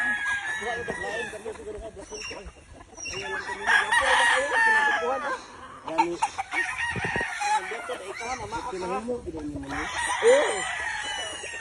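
Roosters at a gamefowl farm in Tabogon, Cebu crow repeatedly, several birds overlapping in loud nearby calls amid clucking, with people talking in the background.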